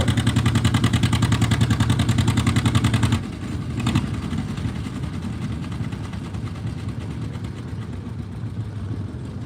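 A pulling tractor's engine at a country tractor pull runs with a loud, rapid pulsing drone for about three seconds, then drops to a rougher, quieter rumble that continues to the end.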